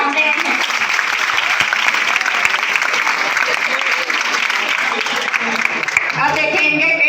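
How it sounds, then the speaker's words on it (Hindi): An audience at a youth awareness workshop in a Balco school claps steadily, a dense, loud and close burst of applause lasting several seconds, with voices mixed in underneath. "ताली बजाइए भाई"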